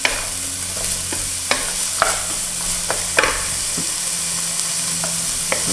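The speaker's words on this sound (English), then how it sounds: "And we'll cook them for a minute. Mix them up nicely. Keep mixing these." Onions, with carrots, frying in a hot pan for a beef and broccoli stir fry give a constant loud sizzle, while a utensil stirs them with intermittent sharp scrapes and taps, close up and without talk.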